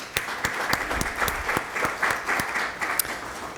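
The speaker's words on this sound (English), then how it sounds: "can we just give them a round of applause?" An audience at a spring honors thesis presentation session claps for faculty mentors and advisors, a sparse scatter of individual handclaps coming in uneven bursts, fairly close, with no voices over it.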